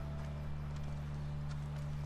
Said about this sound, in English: Sorry for stealing your horse.